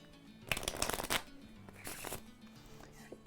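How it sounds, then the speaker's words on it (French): A deck of red playing cards being shuffled by hand close up: two rustling, riffling bursts, the first longer and louder, then a shorter one, with quiet handling noise between. "Juste ici, j'ai un jeu de cartes rouge. Donc, toutes les cartes sont différentes, tu le confirmes? Oui. Je vais venir mélanger ce jeu de cartes."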